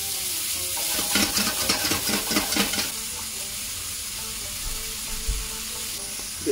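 Peppers sizzle and fry in a pan of lamb masala chops alongside garlic, with a steady hiss and quick stirring scrapes clustered early before the sizzle settles into a softer continuous fizz.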